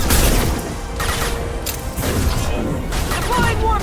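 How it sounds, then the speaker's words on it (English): Dense combat noise from the video game Mass Effect 2, with rapid gunfire and a concussive shock power blasting amid shouted callouts, busy and continuous throughout. "Taking cover! Firing concussive shock!"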